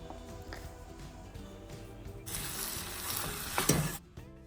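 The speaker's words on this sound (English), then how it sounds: "fry that off a little bit just to seal it off." Beef and seasoning sizzle in a hot pot for Indonesian rendang, a steady fry that swells louder midway as the meat is stirred and scraped, with clinks of the utensil against the pot.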